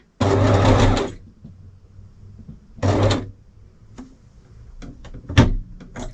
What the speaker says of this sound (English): now I just have to do the buttonholes